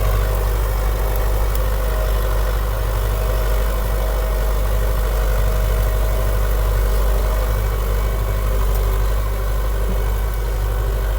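A heavy MTZ-80 tractor engine drones steadily and loudly throughout, pulling a reversible plough through a corn field, a low continuous rumble with no pauses.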